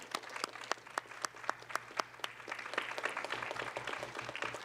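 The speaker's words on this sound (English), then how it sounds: "some clapping hands for the various people who have contributed here tonight" Audience applause at an evening awards ceremony for access, equity and human rights: many hands clap in sharp, distinct claps that blend into a continuous wash, moderately distant and fairly quiet.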